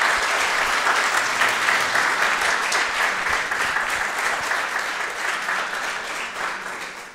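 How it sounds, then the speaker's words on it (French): A church congregation at a Sunday homily applauds Hélène after her testimony, a full, sustained round of clapping that slowly tapers off toward the end. "On pourrait l'applaudir."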